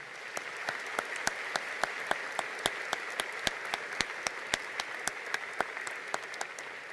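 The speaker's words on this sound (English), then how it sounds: "Let's please give these students a round of applause." An audience applauds a row of students at a spring high school graduation ceremony, steady distant clapping with a few sharper individual claps standing out, heard alone without talk.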